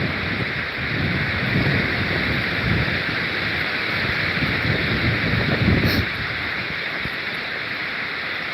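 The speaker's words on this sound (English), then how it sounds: "Woo, that wind is cold." Cold wind blows hard at Beacon Rock, a large basalt rock, roaring steadily and rumbling across the microphone for several seconds, with a gust that swells then eases off.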